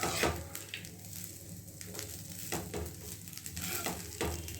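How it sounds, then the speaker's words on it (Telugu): Lemon rice is stirred in a pan over a low flame, with repeated scraping strokes of a spoon against the pan over a faint, soft sizzle; close and quiet, with no talking. "లో ఫ్లేమ్లో ఒక 2-3 మినిట్స్ ఇలా కలిపేసుకుంటే రైస్ కూడా మంచిగా మిక్స్ అయిపోతుంది ఫ్రెండ్స్"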